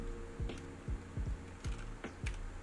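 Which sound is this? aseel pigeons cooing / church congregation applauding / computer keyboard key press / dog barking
computer keyboard key press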